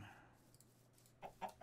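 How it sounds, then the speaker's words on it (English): A Minecraft chicken gives a few short clucks near the end, two brief bursts after a stretch of quiet game ambience. "I also think this chicken is now my best friend because I have seeds"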